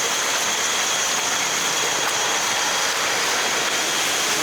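Floodwater pours out of a street drain during a flood in Manila, a steady broadband rushing wash that holds loud and continuous with no pause.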